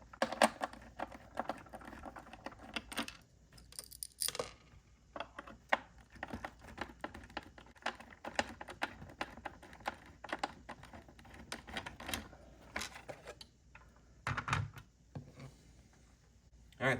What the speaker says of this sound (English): this does have the regular screws on it. So, get those. So we'll get off the screws next.